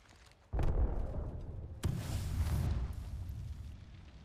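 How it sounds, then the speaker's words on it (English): A thermite grenade in the video game Apex Legends erupts with a sudden heavy whoosh, followed moments later by a second burst that turns into a sustained roaring, crackling burn that slowly fades. "Throwing thermite grenade."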